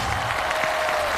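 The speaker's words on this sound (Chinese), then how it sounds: "掌声好不好？" Studio audience applause on a Chinese job-seeking TV show, steady and dense across the whole moment, loud and close with no break.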